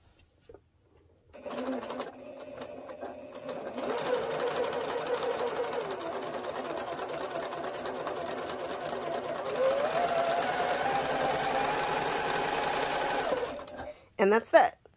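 Sewing machine chain piecing half rectangle triangle quilt pieces, running steadily and close for about twelve seconds with a continuous whirring stitch, starting after a brief pause and stopping near the end, followed by a short burst of handling noise.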